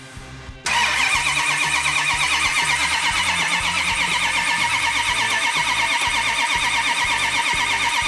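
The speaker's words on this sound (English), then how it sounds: "So when we do fire it off, we've got good oil pressure, we have fuel, and it should be an easy start." An engine cranks briefly and then fires up, settling into a loud, steady running roar that continues close by for the rest of the stretch, with no talking.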